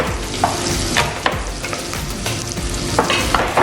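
Onion frying in oil and butter, a close, bright sizzle broken by several crisp stirring scrapes at an uneven pace, with no speech.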